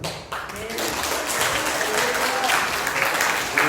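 A church congregation at a Sunday worship service bursts into applause to welcome the pastor to the pulpit, a dense, sustained clapping from many hands that swells after a brief start and continues steadily.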